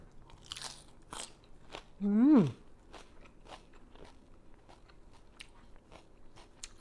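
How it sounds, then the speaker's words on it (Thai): Fresh raw vegetables crunched while eaten alongside a spicy fermented pork salad with ginger: close, crisp bites repeat through the clip, with a brief hummed voice in the middle. "ผักสดกรอบดีขนาดจ้ะ"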